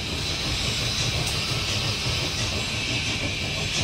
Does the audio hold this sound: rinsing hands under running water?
no